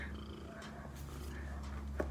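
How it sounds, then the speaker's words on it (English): A wild cat purrs close by outdoors, a steady low rumbling purr running throughout with faint rustling and no speech. "I've found a wild pussycat."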